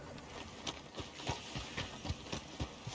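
A horse's hooves clip-clop in a steady trotting rhythm across the ground in the video game Red Dead Redemption 2, with about a dozen distinct close thuds over a low background.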